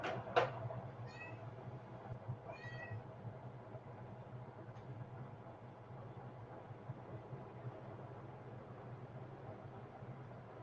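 A cat meows a few times near the start, short close calls over a steady low hum of background noise, followed by quiet.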